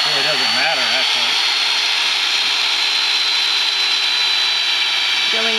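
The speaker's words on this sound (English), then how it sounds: "Drilling the holes to put in the rebar so that the rebar fits into the bottom, or into the holes of the block" A power drill bores holes into a concrete block for rebar while a garden wall is being built; its steady, loud whine runs almost unbroken, with a voice heard briefly at the start and again at the end.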